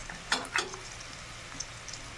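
Onion frying in oil with chilli powder, a faint continuous sizzle broken by two sharp spatters or stirring clicks near the start, quiet and with no voices.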